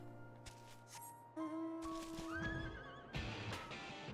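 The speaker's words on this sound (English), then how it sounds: "Water horse!" A water horse neighs in Final Fantasy XIV, a rising whinny with warbling tones amid game effects and a few hoof-like clops, moderately loud and without talk.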